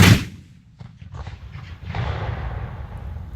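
A Civil War cannon fires at a Manassas demonstration, one loud close boom at the start followed by a long rumbling echo rolling back after a beat and slowly fading outdoors.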